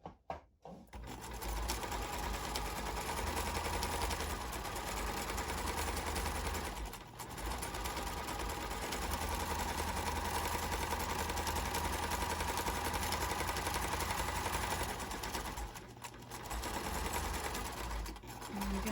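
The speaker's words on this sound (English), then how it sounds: "I'm starting my back stitch right at the bottom seam there" A sewing machine runs a back stitch along the bottom seam of a fabric hanging organizer, sewn with light pink top thread. It whirs in a loud, continuous close drone with brief pauses near the start, around seven seconds and near sixteen seconds.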